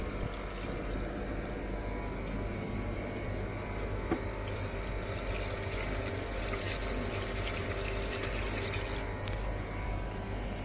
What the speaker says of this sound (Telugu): ఈరోజు ప్రస్తుతానికి వాటర్ పోస్తున్నా